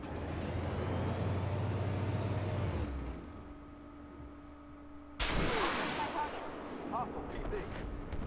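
Swingfire tank in the video game Armored Warfare firing a missile, a sudden loud launch burst about midway that trails off, over steady engine rumble, with someone talking throughout.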